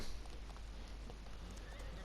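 Horses in the Farming Simulator 19 video game, with faint neighs and clip-clopping hooves over a dense, steady background hiss and rumble. No one is talking.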